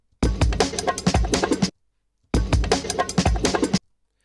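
A punchy sampled drum break at original pitch with kicks, snares and bright cymbals plays twice in a row, each loud pass lasting about a second and a half.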